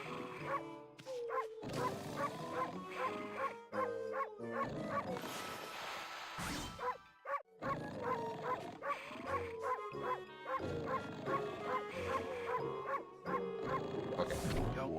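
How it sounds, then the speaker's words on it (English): Yappy, bouncy barks from the wolf in the video game Okami repeat in quick bursts over game music, with short pauses and a brief whimpering break. "Bark at him, start yapping."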